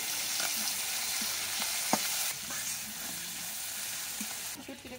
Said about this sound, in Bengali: এবারে শুটকি মাছগুলো দিয়ে কিছুক্ষণ ভেজে নেব।